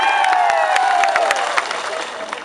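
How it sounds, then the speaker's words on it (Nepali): A live audience at a stage show in Doha breaks into loud, dense clapping and cheering that fills the room, with a voice and some tonal sound mixed into the crowd noise. "ताली बजाउनुस्।"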